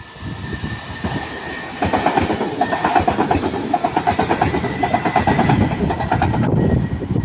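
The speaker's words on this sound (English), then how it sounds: "we've got Transpennine Express, that's 397, going from Glasgow Central to Manchester Airport" TransPennine Express class 397 train passing at Ardwick, a loud close rumble with rhythmic wheel clatter over the rails that grows stronger partway through and keeps going steadily.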